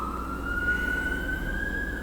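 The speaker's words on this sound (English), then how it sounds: "There's a siren going on." A siren wails steadily at a single high pitch, rising slightly, over low traffic rumble; no one speaks.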